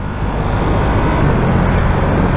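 Ducati Streetfighter V2 motorcycle engine on the move, a steady loud broadband drone with wind and road rush filling the whole stretch, no voices over it.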